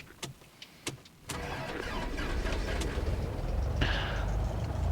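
A light aircraft engine starts up in the X-Plane 12 flight simulator: a few sharp clicks, then a cranking catch that settles into a steady, loud running drone.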